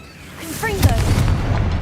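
Confringo blasting spell going off in Hogwarts Legacy, a fiery magical blast with a short rising whoosh followed by a broad rumbling burst that lingers, fairly loud.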